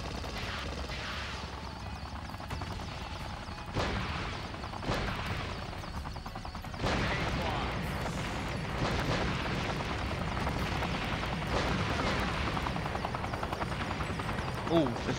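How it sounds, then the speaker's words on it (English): Rockets fired from a helicopter in the PS1 game Black Dawn, a few dull whooshing bursts over a constant rotor and engine roar, with someone talking throughout. "Oh, I'm shooting rockets now."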